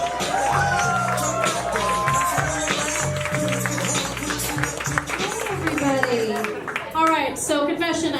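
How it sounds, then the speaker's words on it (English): A comedy club audience cheers, whoops and claps loudly for a comic coming to the stage, a dense, continuous roar of crowd noise with shouts throughout. "Make a whole lot of noise right now for Jessica Hahn."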